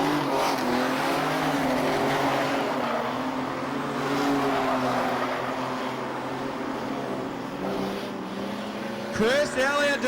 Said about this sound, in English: But Chris Elliott is the race leader through turn number 1 and 2